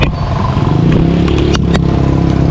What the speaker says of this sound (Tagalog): Yung andaran ng kanyang makina